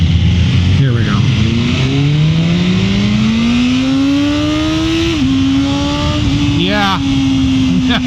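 A 2024 BMW M1000R with the M Competition Package revs hard and pulls up through the gears on a first ride. Its engine note climbs steadily and shifts once, loud and close over wind noise, and a voice speaks briefly.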